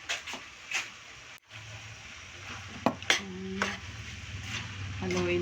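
Pork bopis stirred in a pan for a Bicol-style dish, with a steady sizzle broken by sharp scraping and clanks of the utensil against the metal, close and fairly loud, plus a few brief voices in the background.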